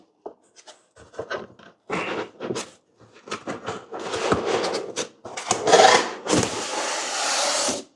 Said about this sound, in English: So let's remove the top layer of foam